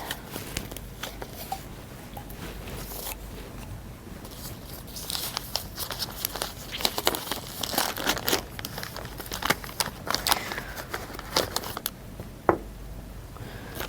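Oil paper packaging crinkles and tears as it is unwrapped from around a 120 series valve assembly, with steady close rustling and sharper crackling snaps toward the end, no talk.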